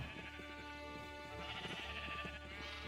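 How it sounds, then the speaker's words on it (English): Sheep bleat in the Minecraft video game, several overlapping nasal calls repeating close by over steady game background sound, with no talking. "I'll breed the sheep as well."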